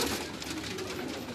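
Rooftop pigeons in Karachi giving a steady, soft throaty cooing, continuous and moderately close, with no talk over it.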